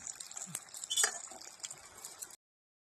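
Fresh mint leaves, fifteen to twenty of them, frying in a pan for palak paneer, giving a soft, steady sizzle with faint stirring scrapes and light clinks, fairly quiet, with no talking.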